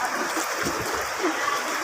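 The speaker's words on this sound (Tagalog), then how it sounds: "grabe pong talaga dito, baha ngayon dito sa Ongpen" Floodwater flowing through a street in Binondo, Manila during heavy rain, a continuous rushing, splashing wash close to the microphone with faint murmurs of voices beneath.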